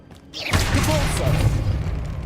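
Repulso spell cast in Hogwarts Legacy, a sudden heavy whoosh and booming impact that swells and rumbles on for about two seconds after a quiet opening.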